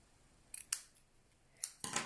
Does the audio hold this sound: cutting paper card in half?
yes